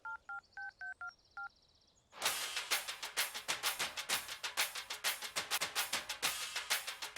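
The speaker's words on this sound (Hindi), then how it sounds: "देखो देखो, मेरी गर्लफ्रेंड का फोन रिंग हो रहा है।" Telephone keypad dialing from a film scene: a short run of about six distinct two-tone DTMF beeps, then a loud, steady rapid ringback or ring pattern of repeated pulses filling the rest.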